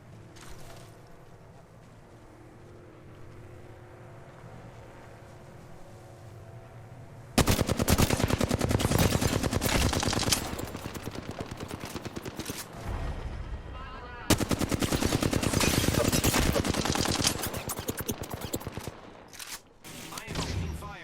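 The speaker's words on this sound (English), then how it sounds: "I am opening fire." Rapid automatic gunfire from a battle royale video game, with a Sheila turret nearby, bursts in loud dense volleys after a quieter stretch, hammering continuously with brief gaps between two long sustained streams.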